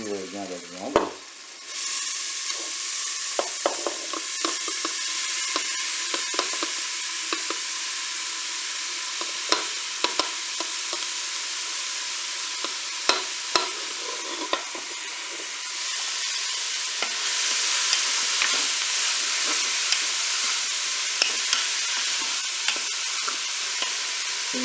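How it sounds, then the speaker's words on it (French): Meat sizzles and fries in a Cookeo pot with steady bubbling hiss, broken by repeated clicks and scrapes of stirring that continue throughout. "Je vais maintenant ajouter la viande."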